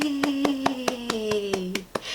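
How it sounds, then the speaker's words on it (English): Hands clap in a steady rhythm of about ten close claps after a children's book is read aloud, with a cheerful sung or hummed voice running underneath. "Let's clap. Let's clap."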